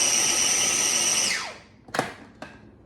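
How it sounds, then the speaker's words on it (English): A food processor on the chop setting whirs loudly and close while chopping muffaletta sandwich filling, then spins down, followed by a couple of knocks. "Put the food processor on chop and chop it up."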